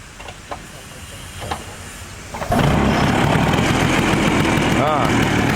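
Bajaj Chetak scooter engine catching at about the midpoint and settling into a steady, loud idle, with a few faint clicks and rattles beforehand and a brief tonal squeal near the end.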